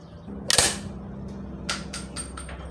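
A Swiss K31 rifle fires one loud, sharp shot close by on an outdoor range at 25 yards, followed by several fainter, crisp clicks spaced about a quarter second apart.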